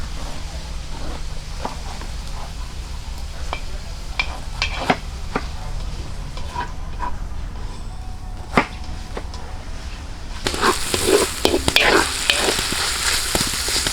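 Chop suey is stir-fried in a pan at an outdoor cooking setup, giving a steady sizzle with occasional sharp clinks of a utensil against the pan, and the sizzle swells louder near the end.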